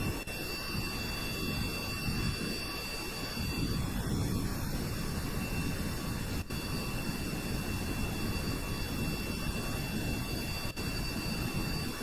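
A four-engine jet aircraft roars down the runway on its takeoff run, a steady, continuous engine rumble that stays strong for about twelve seconds.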